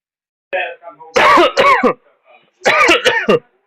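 A person coughs in a few harsh bursts, clearing the throat between them, close and loud with short pauses.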